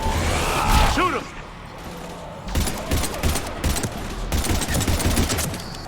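Rapid gunfire from Mass Effect 3 on Mars, dense bursts of automatic shots and sharp cracks from about two and a half seconds on, loud and close, after a whooshing burst at the start, with voices shouting in the mix.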